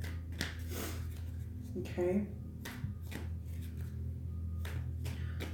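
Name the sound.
shuffling tarot cards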